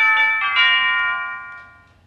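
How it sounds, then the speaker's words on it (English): A doorbell chimes with a bright ringing tone, two quick strikes followed by a sustained, slowly fading ring, clear and close with no talking. "I hear the doorbell."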